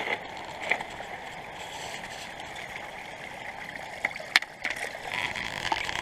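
A river flows in a steady, broadband rush that runs through the whole stretch. A few faint clicks and knocks sit on top of the water noise.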